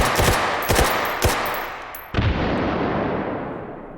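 A few heavy booming blasts in quick succession, followed by a final louder grenade explosion with a long fading rumble, in the video game H3VR.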